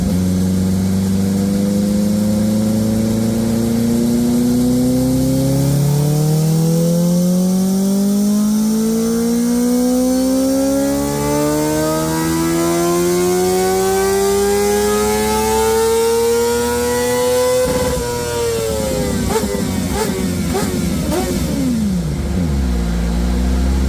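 A Kawasaki ZX-4RR sport motorcycle with custom mapping and a Graves slip-on exhaust runs on a dyno, its engine note climbing steadily through the gears for nearly twenty seconds before cutting off and dropping back to idle, loud and close.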